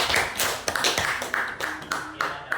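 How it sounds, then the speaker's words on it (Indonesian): A classroom group claps for group 3, a brisk, steady applause of close hand claps with a regular, almost rhythmic beat throughout. "Oke, kita berikan aplaus untuk kelompok 3."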